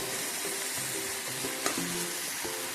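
Dried fish and vegetables stirred in a pan, a soft continuous sizzle with scraping strokes of a spatula at a steady pace, close and fairly quiet, no voices.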